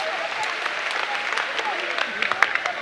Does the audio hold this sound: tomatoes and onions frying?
no